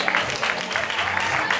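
Short burst of steady applause for a contestant at a blind-date stage show, dense clapping filling the whole moment with light crowd noise.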